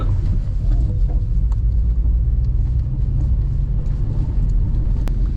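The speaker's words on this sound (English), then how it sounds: "My car sounds like it's about to break down." Car engine rumbling heavily while driving in wet weather in the Lake District, a loud, constant low drone and road roar close up, sounding rough and strained as if about to break down, with no voices.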